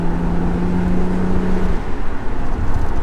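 A BMW Z3 with a 3.0 engine drives along, its steady smooth engine drone and road noise filling a short stretch at close range, with no talk.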